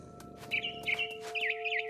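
A mama bird chirps in What Remains of Edith Finch, bright warbling tweets in several quick phrases over a steady low game-ambience hum.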